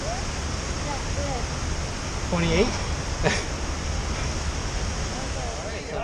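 Broadband rushing water from a waterfall along a Columbia River Gorge trail during a 50 km trail run, a steady roar filling the background while people talk over it.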